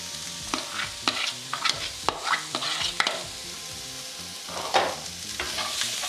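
Garlic browning in a pan with fresh ginger sizzles steadily while a spatula stirs and scrapes in irregular, sharp knocks close by, no voices.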